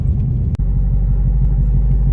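A supercharged Whipple stage 2 2019 S550 Mustang GT pulls away from a light, with a steady low engine rumble dominating throughout and a brief dip near the start, with no talking.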